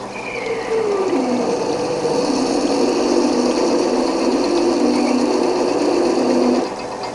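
An EMI-MEC E Sprint drilling machine running an 8.75 mm drill bit, shown up close: a steady whining motor drone with a pitch that dips and shifts as the bit cuts, continuous for about six seconds before stopping.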